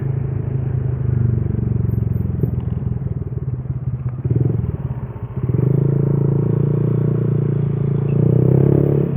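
A Suzuki Satria motorcycle engine drones steadily while riding, dipping briefly in the middle as it eases off, then revving back up; no talking.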